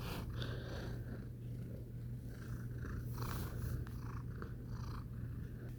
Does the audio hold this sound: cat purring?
yes